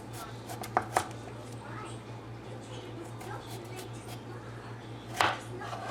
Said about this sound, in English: we're going to cut these pretty thin because I want them to get crunchier and not take forever to cook